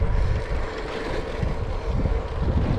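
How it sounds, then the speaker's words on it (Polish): Steady wind buffets the microphone with a low, rumbling roar that persists throughout, with no voices. "troszeczkę wieje wiatr dookoła jak widzicie"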